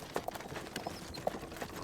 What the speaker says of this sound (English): How do I get not just loud horse noises?